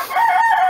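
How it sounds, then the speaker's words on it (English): A backyard garden rooster gives a loud, close crow, one sustained tonal call that holds steady to the end, with no talking over it. "I don't know what my rooster's upset about"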